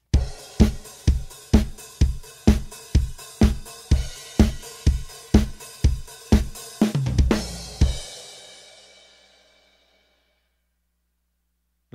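A drum groove played on bass drum, toms and snare in a steady, even pattern of about fifteen hits, ending with a quick roll and a crash cymbal that rings out alone and fades over several seconds.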